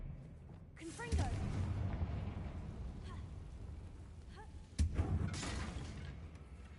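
A Confringo blasting spell strikes a damaged bridge in Hogwarts Legacy, giving a sharp explosive burst followed by a second blast a few seconds later, each with a rumbling tail. A voice is heard around the blasts.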